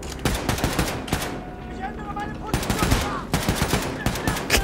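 Rapid automatic gunfire from the shooter game Wolfenstein II: The New Colossus, loud bursts of shots in quick rhythmic volleys broken by short pauses, with no speech.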